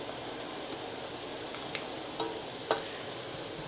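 Flour cooking in melted butter in a pan gives a steady soft sizzle, quiet and even throughout, with a few faint clicks and light stirring touches near the middle.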